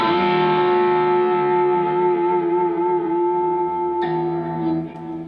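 Electric guitar notes drenched in reverb ring out as sustained, shimmering tones. A fresh attack comes around four seconds in, and the tails hang smoothly over the whole passage with no voices.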